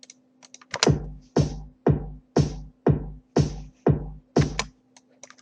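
Programmed kick and snare drum pattern in Reason software, a steady loop of eight evenly spaced, punchy hits with sharp attacks and quick decays, played alone with nothing underneath.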